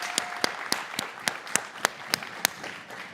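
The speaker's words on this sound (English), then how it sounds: "Real applause." A small audience at a Latino Thought Makers talk claps at the close, the applause sparse enough that individual sharp claps ring out in a loose, even rhythm of roughly three per second.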